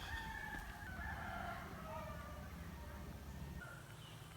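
Roosters crow and chickens cluck at a distance over a steady outdoor rumble in Amed, Bali, with a few calls overlapping through the clip.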